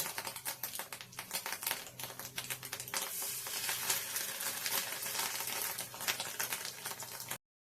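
Fish roe fritters frying in hot oil, a dense, continuous crackle and spatter heard up close, busy throughout and cutting off abruptly at the end.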